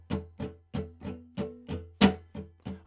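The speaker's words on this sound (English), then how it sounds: "We're going to do an accent on the very first downstroke" Guitar strummed in a steady even rhythm, about ten crisp strokes in under three seconds, with the first downstroke of the pattern played noticeably heavier; close and alone with no voice.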